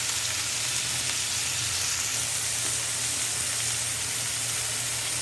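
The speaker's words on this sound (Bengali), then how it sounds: "এখন আমি করলাটা দিয়ে দিচ্ছি।" Sliced bitter gourd with green chilies fries in hot oil, a loud, even sizzle and hiss that holds steady throughout with no voices.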